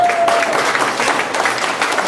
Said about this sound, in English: I want you to clap real hard